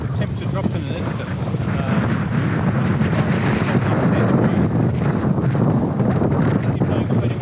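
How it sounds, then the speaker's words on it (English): Squall wind blows over a sailboat at sea, a loud, continuous, roaring buffet of gusts battering the microphone from start to finish. "we're just in the middle of a squall here, and the wind has changed direction by 180 degrees"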